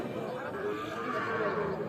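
A young Sahiwal-cross heifer calf moos with a drawn-out, wavering call, heard close by amid a busy, noisy cattle market with voices.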